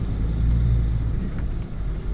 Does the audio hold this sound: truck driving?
yes